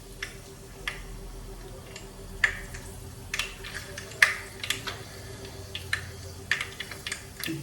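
Mustard seeds popping in hot oil for a quick mixed vegetable sambar, heard as scattered sharp crackles and pops at irregular intervals over a low background hiss, fairly close and moderately loud.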